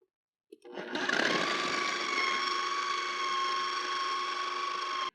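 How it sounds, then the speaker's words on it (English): A food processor purees an onion mixture into a mush for a burger. After a brief click, its motor spins up into a loud, steady whir that holds evenly for about four and a half seconds and then cuts off. "I'll let you close her up and puree that all. Make it into a nice mush."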